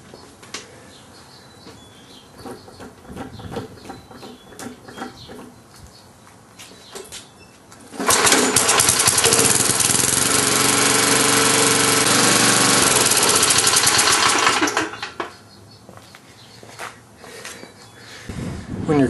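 A lawn mower engine starts up and runs loudly for several seconds at close range before shutting off, with quieter rustling and handling sounds before and after.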